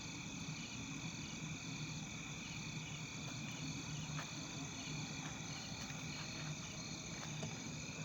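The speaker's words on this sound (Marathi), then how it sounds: "रातकिडीचा आवाज ऐकू शकतात मित्रांनो तुम्ही." Crickets chirp at night in a farm field, a faint, even shimmer of steady high trills over soft background hiss, with no voices.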